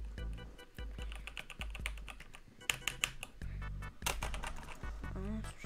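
Fingers type on a computer keyboard in quick, irregular clicking taps, fairly close, with busy bursts and brief pauses, while faint game music tones sit underneath.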